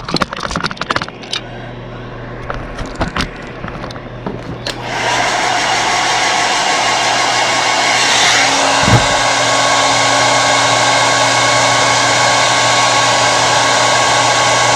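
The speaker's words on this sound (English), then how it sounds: "Now we're going to blow dry her." Blow dryer roaring steadily after some brief clattering and handling knocks, loud and close, its continuous airy whine holding unchanged for about ten seconds.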